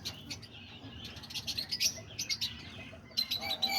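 Pet birds including diamond doves, cockatiels, budgies and lovebirds chirp and tweet indoors in rapid bursts of high calls, fairly close and moderately loud, with short pauses between clusters.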